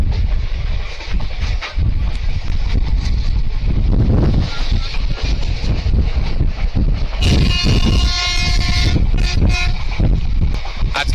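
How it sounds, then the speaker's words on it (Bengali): Sealdah-Lalgola passenger train hauled by a WAG9 locomotive rumbles past near the microphone with steady wind buffeting, and a long horn toot sounds near the end. "আজকে শিয়ালদা লালগোলা প্যাসেঞ্জারের নেতৃত্বে রয়েছে WAG9 লোকোমোটিভ।"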